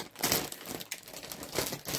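A plastic mystery haul bag of Temu goods is torn open: busy, close crinkling and crumpling of thin plastic that continues in bursts for about two seconds.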